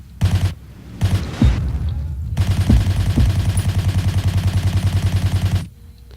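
Assault-class automatic rifle fire in the Battlefield 1942 video game: loud, rapid bursts of gunshots with short gaps, then sustained rhythmic firing for several seconds, with a couple of heavier booms mixed in.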